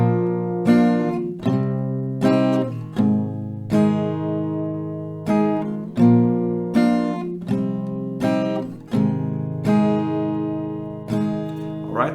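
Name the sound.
acoustic guitar strumming a song's chord progression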